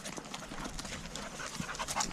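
Working Labradors and spaniels pant steadily and close by during a gamekeeper's dogging-in outdoors, a continuous breathy rasp with a few faint footfalls mixed in.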